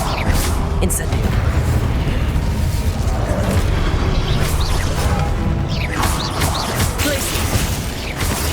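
The Incendio fire spell in the Hogwarts Legacy video game, a loud, dense rumbling whoosh of magical flame that runs the whole time, layered with booms, crackles and bursts from a busy fight, with speech heard over it.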